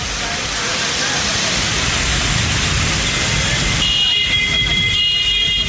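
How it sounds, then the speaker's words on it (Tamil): Heavy rainwater pouring off a city flyover like a waterfall, a dense, loud, continuous roar of rushing water with traffic underneath. "மேம்பாலத்திலிருந்து அருவி போல் மழை நீர் கொட்டியது"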